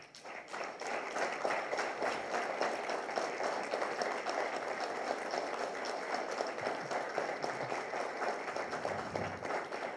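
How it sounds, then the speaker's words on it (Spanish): An audience at a school closing ceremony and recommendation presentation applauds steadily, a sustained wash of many hands clapping at moderate distance, even in loudness from start to finish. "creo que ellas sí merecen ese aplauso que hoy les pido"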